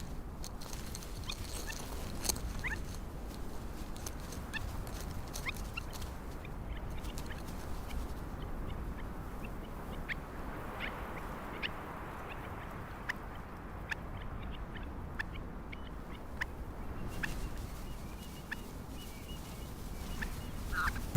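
Stone curlew mother calling near her newly hatched chicks at dawn, a soft rustling outdoor bed with scattered short bright chirps and peeps repeating irregularly throughout, no voices.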